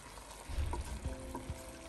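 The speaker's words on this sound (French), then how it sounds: "On va bien mélanger le tout." Pork ndomba is stirred in a pot: a few soft scraping knocks of a utensil against the cookware over a faint background sizzle, close and brief.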